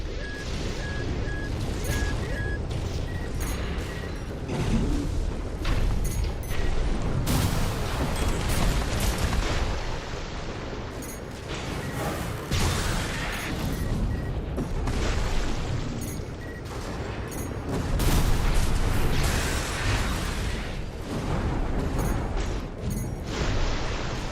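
Heavy artillery booms and crashing blasts roll through a mech battle in Armored Core VI, loud and near, with repeated bursts over a dense, continuous roar and no talking.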